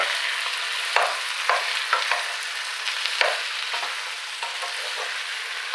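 Tomatoes tipped into a pan and stirred for tomato soup, with a steady sizzle and repeated scraping strokes of a spoon, close and clear with no talking.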